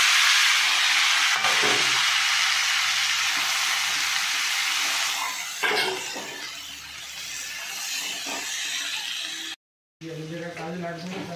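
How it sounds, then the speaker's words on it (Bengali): Boiled figs are stirred in hot oil in a wok, giving a steady, bright sizzle with occasional scraping from the stirring, while someone talks over the cooking. "এবার ডুমুরটা দিয়ে আমি একটু নেড়ে নিচ্ছি।"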